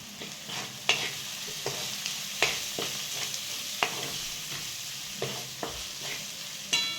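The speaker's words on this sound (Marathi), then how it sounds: "आता हे छान आपल्याला असं परतून घ्यायचं आहे." A dal-onion mixture seasoned with homemade black chili powder sizzles gently in a pan, broken by about ten sharp spoon scrapes and clinks at irregular intervals, with no talk.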